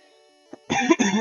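A short, harsh cough bursts out twice in quick succession after a brief quiet moment, close and fairly loud.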